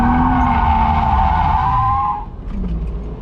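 A BMW E30 fitted with individual throttle bodies spins donuts on a track, its tires squealing loudly in a long sustained skid over engine roar before the screech cuts off and the motor idles briefly.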